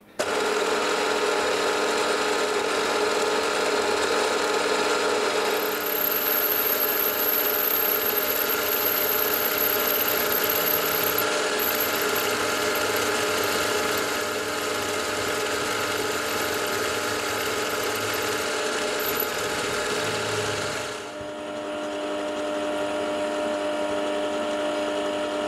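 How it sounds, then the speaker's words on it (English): Steady milling machine whir with a high mechanical whine while centre drilling steel, running continuously at close range, with a brief dip in pitch near the end as the cutting load changes. "I want to just put a centre drill mark there."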